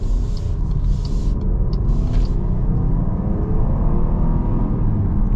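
A 2024 Jeep Grand Cherokee Limited Black Appearance accelerates hard, its engine a loud, steady low rumble heard from inside the cabin with faint chimes early on.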